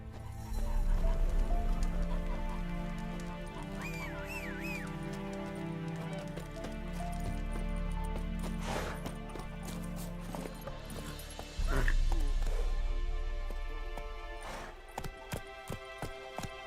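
Hoofbeats of a horse galloping in The Witcher 3, a steady clip-clop running under game music, with a neigh partway through.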